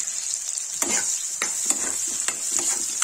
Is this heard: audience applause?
no